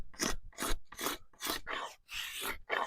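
Axe blade scraping wood off a bow stave, seven close, even rasping strokes in a steady rhythm, each a crisp dry scrape separated by short pauses.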